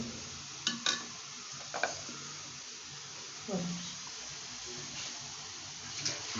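Quiet background hiss with a few scattered scraping and clinking stirs in a pot, spaced out over several seconds.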